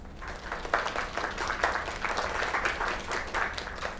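An audience applauds after a young singer's song, a dense, steady wash of clapping that holds for the whole stretch at moderate level.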